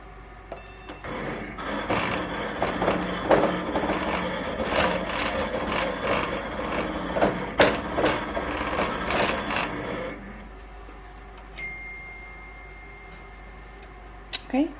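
A Melco EMT16X embroidery machine moving through its design-tracing pass for placement on a baby gown, giving a steady mechanical whirring and clicking for about ten seconds before stopping, then a couple of faint clicks.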